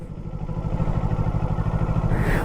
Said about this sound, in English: Is that a Sportster or is that something entirely different? Yeah, that's a Sporty.